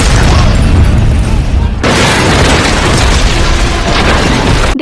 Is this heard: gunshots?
yes